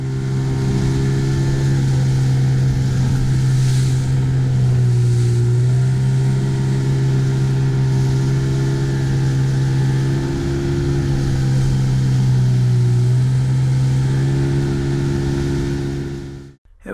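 A motorboat's 25 horsepower engine drones loud and steady while running the tidal Falls of Lora at full spring-tide flow, its pitch dipping and rising slightly for about sixteen seconds before cutting off abruptly at the end.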